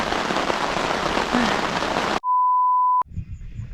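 Steady broadband rain hiss at a reservoir campsite in Lamphun, filling the first two seconds, then cut off by a long steady electronic beep before faint outdoor noise resumes.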